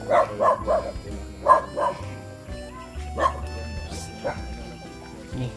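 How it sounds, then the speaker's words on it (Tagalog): A dog barks several times in quick bursts, then gives a few scattered yips and whimpers, fairly close, with a faint voice in the background, beside a cornfield. "may aso, oh."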